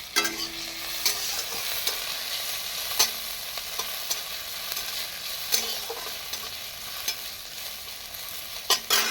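Cumin seeds, ginger and green chilies sizzle and fry in hot oil, a steady close crackle with a few louder pops and stirring scrapes, no voices.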